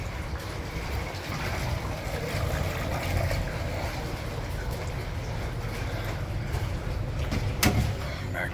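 A 2003/04 Suzuki 50hp in-line three-cylinder EFI four-stroke outboard engine runs at a quiet, steady idle while being shifted between neutral, forward and reverse, with a brief clunk near the end.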